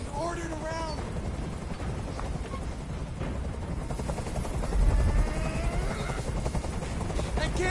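Helicopter rotor noise in the Detroit: Become Human video game, a steady broadband thrum sustained throughout under a tense voice, with a brief low thump midway.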